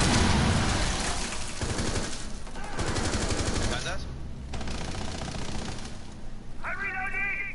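Rapid automatic gunfire in the video game Rainbow Six Siege, loud and near, with bursts of shots continuing throughout alongside game sounds and talking players.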